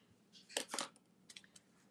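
Ribbon scissors make a few quiet, crisp snips as they trim paper for a handmade card: two quick cuts close together, then a couple of fainter clicks.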